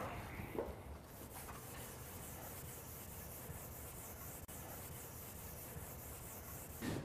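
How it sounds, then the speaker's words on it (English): A scouring pad scuffs the glossy finish of a truck bed in steady, continuous rubbing strokes, close and fairly quiet, with no voices. "Now I'm using the supplied scouring pad to break the gloss on the finish."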